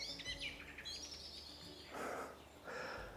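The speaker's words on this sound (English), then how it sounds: "Nice birdsong here in the woods." Songbirds chirp and whistle in a patch of woodland, a run of bright, fairly faint calls followed by two louder bursts of warbling song, with no one talking.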